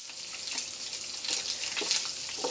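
Pork with a bit of fat sautéing in a pan for pork binagoongan, a steady soft sizzle with faint scraping stir sounds, heard alone without talk.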